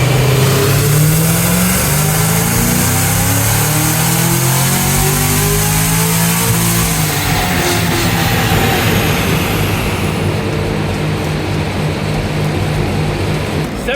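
A Cadillac CT5-V Blackwing with a supercharged LT4 V8 screams on a dyno during tuning, the engine revving hard and climbing steadily in pitch, loud and close, then holding near full throttle.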